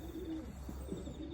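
A racing pigeon coos softly in a few low, rolling pulses, close by over a steady low background hum.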